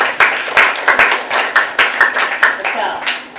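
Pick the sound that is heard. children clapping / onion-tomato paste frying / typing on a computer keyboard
children clapping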